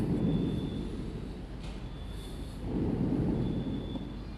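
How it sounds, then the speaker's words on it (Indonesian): A firecracker exploding outside, heard as a deep, rolling boom that rumbles for several seconds and swells again partway through, distant and muffled, with no voices. "Petasan."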